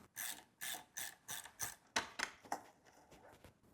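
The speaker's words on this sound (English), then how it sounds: "So I'll take the 6mm hex and my ratchet and get this lower shock connection off." A ratchet with a 6mm hex bit loosens the lower shock bolt on an E-Ride Pro SS electric motorbike's suspension linkage, giving about ten quiet, evenly spaced clicking strokes close by that slow and soften toward the end.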